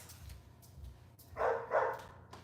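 Dogs barking at a house in Canada, a couple of quick barks at middling distance over a quiet low hum.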